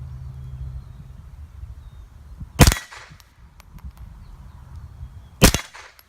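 Two sharp .22 LR rifle shots, standard velocity round nose lead, crack outdoors about three seconds apart, with faint ambient noise and a few small clicks between them.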